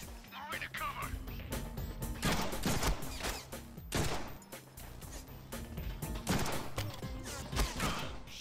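Rapid volleys of gunfire crackle through a Deadpool video game battle, bursts coming in uneven clusters over busy game sound, with voices talking in between.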